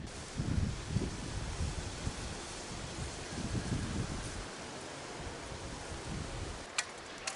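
Steady wind rushes and buffets the microphone at an autumn fishing spot, with gusty low rumbles rising and falling, ending in a few faint clicks.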